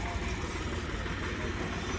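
A Farmtrac 6055 tractor idles at a tractor market with a steady, low, muffled engine rumble that holds constant and fairly faint for the whole moment.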